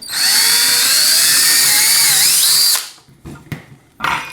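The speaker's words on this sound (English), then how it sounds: "And then get my drill here. And then drill into this." A power drill whines loudly and steadily for a few seconds, its pitch wavering as it bores in while making a bicycle fork alignment gauge, then stops, followed by light clatter and handling noise.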